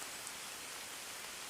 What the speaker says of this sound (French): Et là la pluie vient de s'intensifier